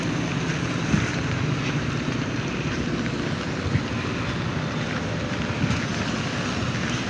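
Typhoon Opong sweeping a rainy city street: a constant, close roar of gusting wind and falling rain buffeting the microphone, with no voices.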